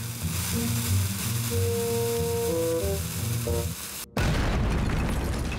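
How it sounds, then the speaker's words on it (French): Sustained tones hold over a low rumble, then a sharp cut gives way to a loud, crackling blast of a cartoon underground mine explosion that keeps roaring until the end. "ils font de grosses explosions sous la terre"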